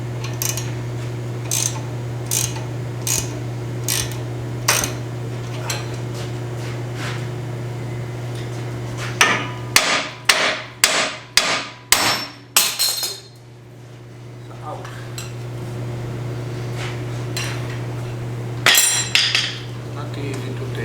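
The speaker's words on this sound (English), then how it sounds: "When in doubt, hammer it out." A hammer pounds on the inner lower control arm ball joint of a 2011 Ford Fusion, a fast burst of about eight sharp metallic strikes, with lighter taps and clinks before and after and a steady hum behind.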